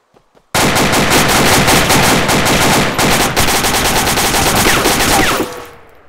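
In the military shooter ArmA 2, sustained automatic gunfire erupts after a brief quiet and hammers on loud and continuous for about five seconds before tapering off.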